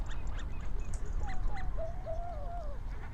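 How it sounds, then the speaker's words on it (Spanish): Wild birds calling in the Urdaibai nature area, several quacking and honking calls, with a few rising, wavering cries standing out over a steady rushing outdoor background. "Menuda juerga de aves hay, sobre todo con los sonidos."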